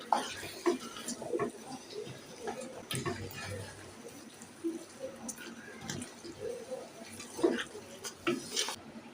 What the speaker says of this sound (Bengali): এবার আমি নেড়ে চেড়ে মিশিয়ে নিচ্ছি সবগুলো একসাথে